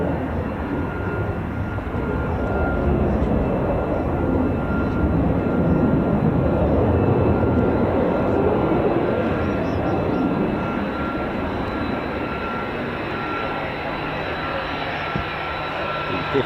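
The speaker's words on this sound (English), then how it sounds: "Fifth generation stealth aircraft, the world's most advanced. This is the A variant." An F-35A fifth-generation stealth fighter jet flies at RAF Lakenheath with a continuous heavy roar that swells gently and holds for the whole stretch, a broad engine rumble with no break.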